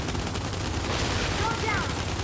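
Dense bursts of gunfire from Gears 5 Horde mode, rapid overlapping shots and impacts filling a short loud stretch, with a voice briefly heard beneath the firing.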